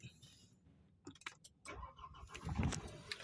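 A Mitsubishi Triton pickup with push-button engine start: close key clicks and jangling, then the starter cranks and the engine catches and settles into a steady idle.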